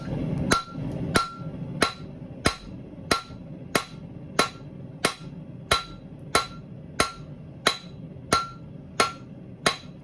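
A hammer forges a hot steel bar about 1 to 1¼ inch thick to stretch it lengthwise, ringing out a steady series of loud, close, evenly spaced blows.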